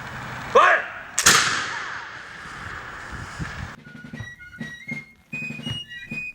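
A colonial-era firelock musket fired at a reenactment, with one sharp loud crack followed by a long decaying boom, then metallic clinks and rattles as the weapon is handled, and a voice calling out before the shot.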